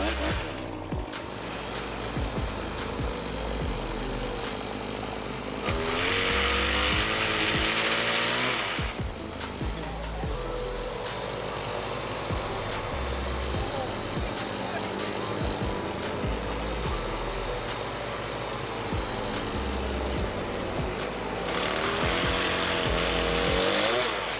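A Husqvarna 525DEPS dielectric pole saw whirs steadily, rising twice into harsher, louder bursts as it cuts.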